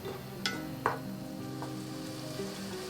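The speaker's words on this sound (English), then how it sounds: "we're gonna cook the tomato with the onion for 1 minute" Tomato and onion cooking together in a pan over medium heat give a faint, steady sizzle, broken by a few soft clicks of a utensil.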